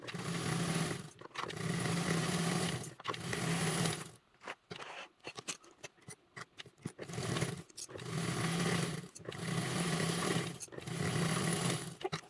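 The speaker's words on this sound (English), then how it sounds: "follow me over to the sewing machine and let's get sewing" A sewing machine runs a quarter-inch seam along the long edges of a tote bag in loud, steady whirring bursts of about a second or two each. Quiet handling clicks fill a short gap midway.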